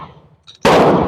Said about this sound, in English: This is the last five I'm going to shoot.